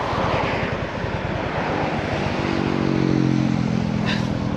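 A motorcycle engine cranks and fires up after a crash on a road near Brno, running loud and close with a rough, pulsing idle that climbs into a steadier hum, with no one speaking over it.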